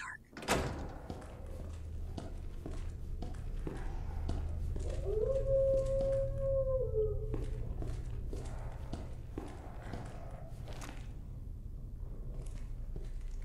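Dogs in a dark kennel in the video game Resident Evil 2 let out a wavering, drawn-out howl midway, over a low droning ambience with scattered knocks.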